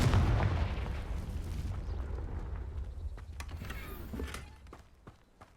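A Confringo fire spell explodes in the video game Hogwarts Legacy: a loud, booming blast that rumbles for a couple of seconds, then thins into crackling debris and a few sharp, scattered impacts.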